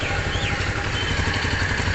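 A TVS Sport BS6 110cc motorcycle engine idles steadily nearby, a low, even rumble with a faint mechanical clatter and no voices.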